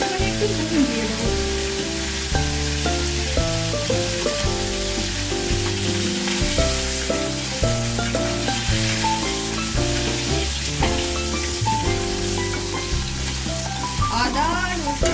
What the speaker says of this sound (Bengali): এটা প্রচন্ড ভাজছে, ওই জন্য আমি সামান্য পরিমাণে একটু নুন দিয়ে দেবো।